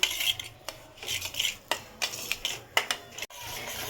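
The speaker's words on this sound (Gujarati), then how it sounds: "અહીંયા હું સોજી શેકું છું" Semolina roasting in ghee in a pan, stirred with a spoon that scrapes and clinks against the metal in quick, irregular strokes, close and fairly loud with a soft background hiss.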